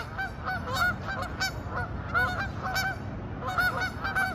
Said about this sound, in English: Why those geese had to run out of the little creek?